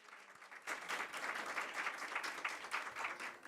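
Audience at a women's empowerment conference event clapping for a speaker being introduced, applause starting after a brief quiet moment and continuing steadily at moderate loudness.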